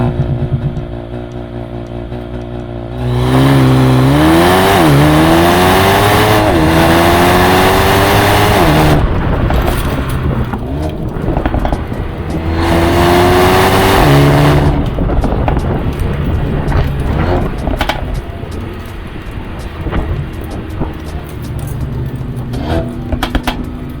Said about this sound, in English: There are still some pops and bangs from the exhaust on overrun, but that's all you get from the standard exhaust.